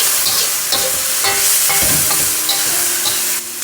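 Soy sauce added to Yangzhou fried rice sizzling in a hot wok, a loud, steady, close hiss with scattered spatula scrapes and pops throughout.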